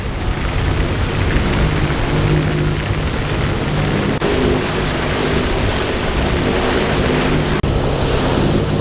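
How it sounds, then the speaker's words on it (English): Steady rain falling at sea around a sailboat in stormy weather, a dense continuous hiss and wash of water, loud and close throughout, with a couple of brief knocks. "It might be raining, Tony."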